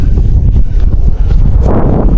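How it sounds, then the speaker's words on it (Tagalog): Strong wind buffets the microphone in a steady low roar while cassava is harvested outdoors, with gusts swelling and faint rustling underneath. "Tsaka mahangin. Hangin."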